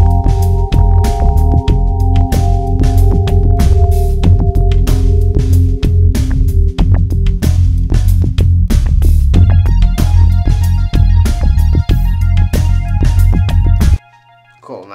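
GarageBand synth pad loops play in a layered soundtrack, steady sustained chords over a pulsing beat, loud and continuous, with the pad pattern changing partway through before cutting off abruptly near the end.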